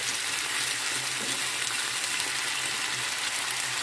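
Potatoes fry in lard in a pan, producing a dense continuous sizzle while being stirred, close and steady with no voices.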